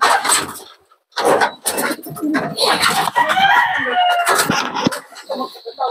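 A pet bird calls in loud, repeated bursts of cooing and crowing-like notes, close by, with a brief pause before continuing in a busy, irregular rhythm alongside faint talk.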